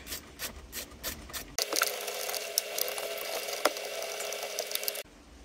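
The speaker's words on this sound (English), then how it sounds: "They are an 8mm bolt, pretty easy to get to with a socket and a small extension" A socket wrench with a small extension loosens the 8mm airbag bolts on a Jeep TJ steering wheel, giving close, rapid ratcheting clicks and a stretch of scraping, grinding turning with no talk.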